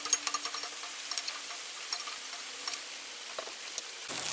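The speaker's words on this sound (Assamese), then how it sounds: "আৰু এতিয়া কাটি লোৱা বন্ধাকবিখিনিও দি দিছো গোটেইখিনি ভালকৈ এবাৰ আকৌ মিক্স কৰি দিছো" Chopped cabbage stir-fried with capsicum in a wok for fried rice, with a soft continuous sizzle and scattered light ticks and scrapes from mixing, fairly faint throughout.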